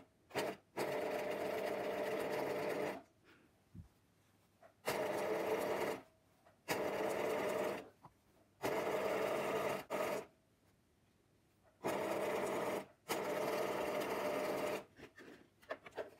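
A domestic sewing machine with a free-motion embroidery foot stitches a diagonal quilting line across fabric, running in several bursts of a few seconds each, separated by short quiet pauses.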